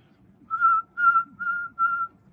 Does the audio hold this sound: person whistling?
yes